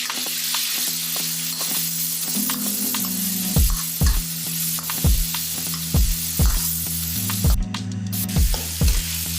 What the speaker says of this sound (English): This sizzling beef stir-fry is ready in minutes, perfect for dinner.